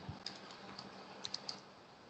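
Sparse, light keystrokes on a computer keyboard while entering text in MS Word 2007, a handful of soft clicks clustered near the middle, faint against a quiet room hiss.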